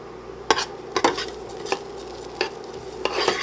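Garlic being stirred into a pan of cooking rice, a spoon scraping the pan in several distinct close strokes over a soft sizzle, no talking.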